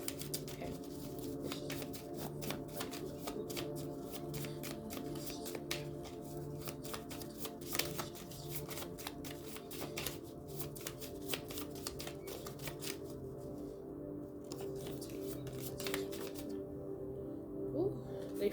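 Small deck of cards being shuffled by hand, a long run of quick, soft riffling and flicking taps at close range over a low background hum.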